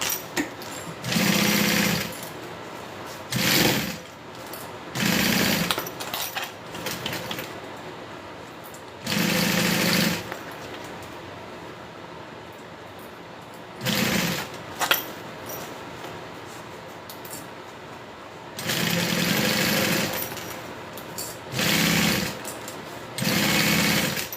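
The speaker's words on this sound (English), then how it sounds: "and then sew them together." Sewing machine stitching quilt pieces together for a quilted Tiffany project, running in repeated bursts of whirring stitching separated by short pauses, close and fairly loud with no talking.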